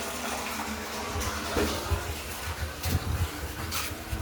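Water running into a small tank at home, a steady close splashing and rushing flow with slight surges, moderately quiet and heard alone.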